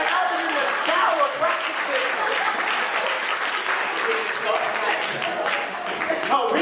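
Sustained audience applause from a crowd, dense steady clapping filling the whole stretch at close range with no pauses.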